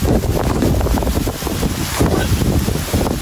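Strong wind buffets the microphone in a constant, loud roar with gusty low rumbling throughout, no clear talking.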